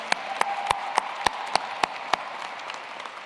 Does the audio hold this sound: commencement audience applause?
yes